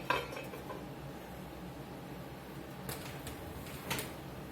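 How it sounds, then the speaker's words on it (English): A lid is set back onto a pot of Italian beef and au jus with a couple of soft metallic clanks against a low steady background hum. "Put the lid back on it."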